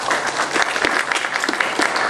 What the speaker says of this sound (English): Please hold your applause to end the debate, please.